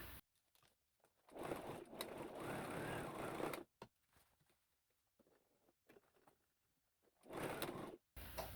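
A sewing machine stitches a seam on a pair of shorts in two loud, close bursts of rapid mechanical whirring, with quieter handling noises and pauses in between.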